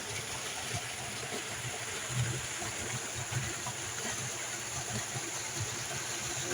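Water running over porous, hole-pocked rocks near small caves, a steady broadband rush with low gurgling pulses throughout, close and continuous with no voices.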